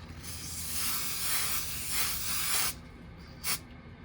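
A spray can hisses steady coats onto layered resin coaster art, a long continuous near spray of about two and a half seconds followed by a short separate burst.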